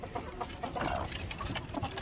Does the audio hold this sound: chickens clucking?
yes